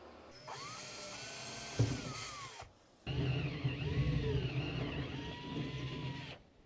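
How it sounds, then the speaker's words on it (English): A power drill bores holes into a FUSO overland truck camper, two sustained whirring runs with the motor pitch dipping under load, separated by a short pause, close and moderately loud. "I'm going to drill a small pilot hole up from the bottom first, and then I'll drill the main hole down from the top"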